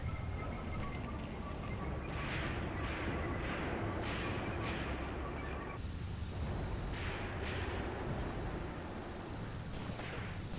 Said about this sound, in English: They began to provide suppressing fire with machine guns and napalm.